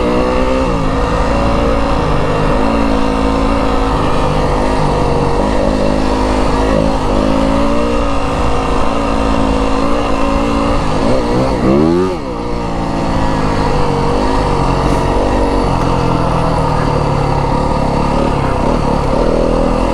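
A 2025 Yamaha WR250F dirt bike engine runs steadily and loudly throughout, revving and shifting with varying pitch while riding a rough Arizona desert trail lined with cactus, with a brief dip near the middle.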